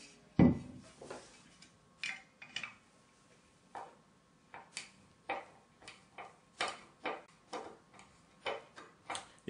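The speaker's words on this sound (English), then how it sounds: "So now we're going to unscrew the lid." Crosshead screwdriver working the knob loose from a Netherton Foundry cast iron lid, giving a series of short, close metallic ticks and clicks in an irregular rhythm, with one louder knock near the start and no talking.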